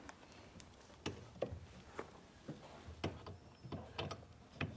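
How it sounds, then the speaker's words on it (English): Bolts being worked loose from a CD player inside a car interior during a Carolina Vaydor supercar build: scattered sharp metallic clicks and ratcheting taps, close and fairly quiet, irregularly spaced. "Right now he's pulling the CD player's bolts in the back there"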